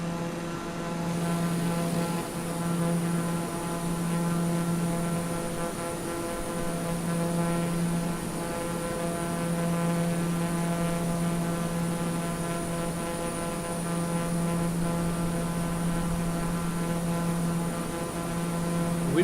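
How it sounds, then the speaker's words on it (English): TBM turboprop aircraft in Microsoft Flight Simulator climbing away after a carrier launch, a steady droning propeller and engine tone with strong harmonic hum held loud and even throughout, no voices. "We just took off from an aircraft carrier in the TBM successfully"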